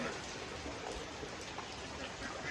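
Rain falls steadily during a downpour, a soft, even wash of hiss with no clear breaks, heard faint and alone.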